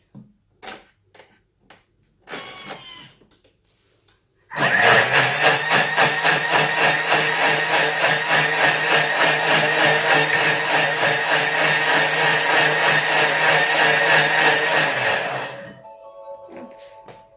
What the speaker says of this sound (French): je vais venir mixer le tout 10 secondes, vitesse 10